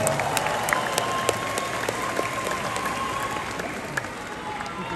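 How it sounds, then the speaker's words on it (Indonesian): Applause and crowd noise from a large gathering of thousands of volunteers at an Indonesian political rally marking 25 years of reform, a dense steady clapping wash with scattered sharper claps and cheers throughout. "Tepuk tangan untuk para pejuang reformasi kita."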